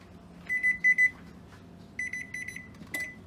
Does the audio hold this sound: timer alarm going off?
yes